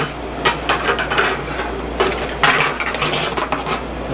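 Metal sculpture track wire being cut off, heard as a series of close, bright metallic clicks and clinks spread across a few seconds with no talking.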